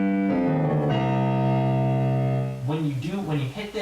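Sustained piano notes stepping down through part of the Shin Gojira theme, rendered with a heavily distorted, buzzy timbre, the last notes short and wavering, with no talking.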